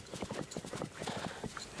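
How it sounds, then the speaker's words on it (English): Horse hooves clip-clop in quick, steady footfalls as a mount trots along in Disney Dreamlight Valley, crisp and close with no voices over them. "sounds like we need our horse for this one"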